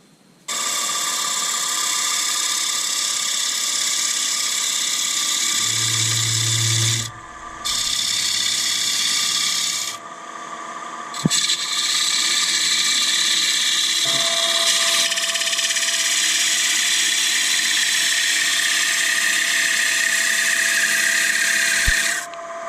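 A woodturning tool cuts a sapele bowl spinning on a lathe, a loud continuous rasping hiss that holds steady for long stretches, with a couple of brief pauses and changes in pitch as the cut shifts.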